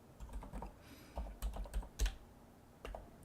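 Keystrokes on a computer keyboard while working in Emacs come as quiet, close, irregular clicks in short clusters with brief pauses, and no voices.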